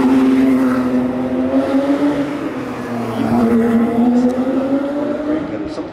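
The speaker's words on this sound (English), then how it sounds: "hearing the tires spin" A Formula 1 car at the Singapore Grand Prix, its engine note loud, rising and falling with tire noise, heard under a broadcast voice.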